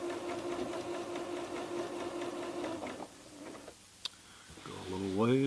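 A home sewing machine stitching a blind hem on fabric, running with a steady rhythmic mechanical whir for about three seconds close up, then stopping, followed by quieter handling sounds and a brief tick.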